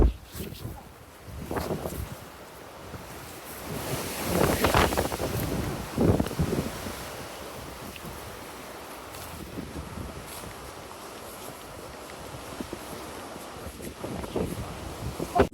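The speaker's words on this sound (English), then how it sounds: "This wind is pushing me" Strong wind buffets the microphone on a Torres del Paine trek in Patagonia, a steady roaring rush with louder gusts near the middle and end, while a person speaks over it.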